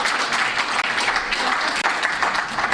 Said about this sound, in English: And I'll take applause.